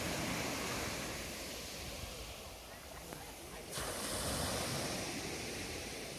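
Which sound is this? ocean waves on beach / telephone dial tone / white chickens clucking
ocean waves on beach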